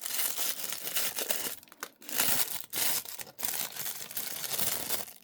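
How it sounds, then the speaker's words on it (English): Tissue paper with hearts on it crinkles and rustles near at hand while a Miniverse Valentine's package is unboxed, coming in irregular bursts with brief quiet gaps and no talking. "there's something with tissue paper"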